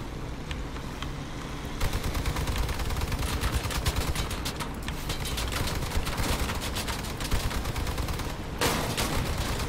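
Sustained machine gun fire from a vehicle armed with three machine guns in the Crossout combat game, dense rapid bursts rattling loudly and almost continuously, with brief pauses and overlapping impacts.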